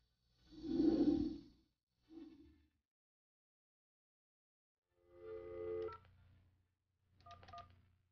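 AT&T video phone tones, a few separate electronic beeps and tone bursts spaced out across several seconds with silence between them, clean and distinct.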